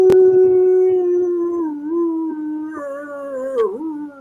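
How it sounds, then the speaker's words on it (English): A single long, drawn-out howl with a wavering, slowly falling pitch that climbs and breaks into a werewolf-like cry at the very end. It is loud and near, opens with a sharp click, and has no voices over it. "There's almost a little werewolf cry at the end of that, how they howl at the very end."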